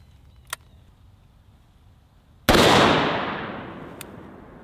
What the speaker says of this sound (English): I'm gonna shoot one more, and this time I'm gonna put the muzzle brake right underneath the nose.